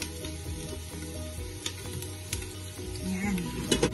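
Chicken and onion sautéing in a pot for Filipino chicken tinola with ampalaya, a steady close sizzle with stirring clatter and a few sharper clinks near the end, no talking.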